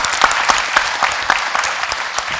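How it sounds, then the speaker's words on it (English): Audience applause at a Brookline High School event, steady close clapping from a crowd sustained throughout with no voices. "Give her a round of applause, please."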